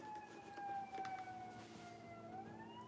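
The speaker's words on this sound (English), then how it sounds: "now I hear sirens" Sirens wail outside at a distance, a steady rising-and-falling tone that carries faintly but clearly through the whole stretch with no talk over it.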